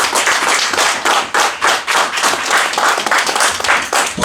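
A church congregation claps together in acclaim of the Lord after a scripture reading, a dense, steady wash of many hands beating in a fairly regular rhythm, loud and close, with no talking over it.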